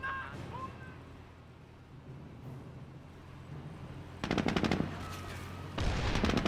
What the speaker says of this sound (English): heard a mine detonation there.